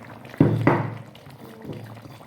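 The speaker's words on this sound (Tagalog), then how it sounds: "Ayan, kumukulo na siya." Chicken in cream with mushrooms simmers in a pot as ingredients are poured in, giving two sharp liquid splashes followed by soft bubbling and gurgling, close and fairly quiet.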